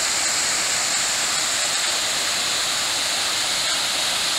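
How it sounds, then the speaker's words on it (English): A large waterfall on the Butterfield Hiking Trail roars as a steady, loud, unbroken rush of falling water, filling the whole clip with no other sounds standing out. "look at this beautiful waterfall"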